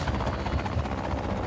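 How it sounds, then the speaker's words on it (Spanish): A helicopter in the video game Just Cause 4 produces a steady, dense rotor and engine roar that holds at an even level throughout, with no talking. "¿Otro helicóptero?"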